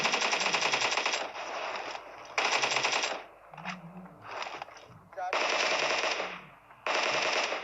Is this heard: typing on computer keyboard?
no